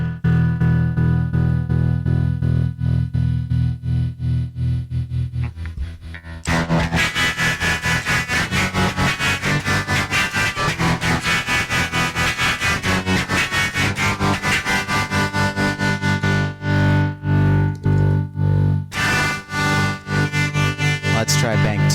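Guitar played through a chain of effects pedals swept by a Mission Engineering expression pedal: a sustained, heavily processed tone that swells into dense, loud, rhythmic strumming with shifting modulation, played continuously without talk.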